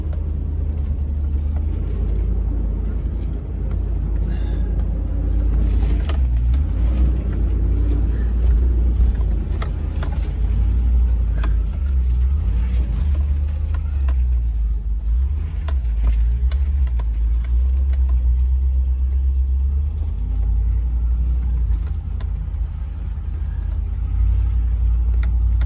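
A Land Rover grinds up an off-road trail toward a mercantile behind an old 109 pickup, its engine a steady close rumble throughout with occasional bumps and rattles.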